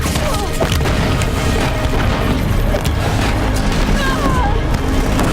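Sticky bomb explosion in Horizon Zero Dawn, a loud dense rumbling boom filling the whole span with crashing debris and game noise, close and intense.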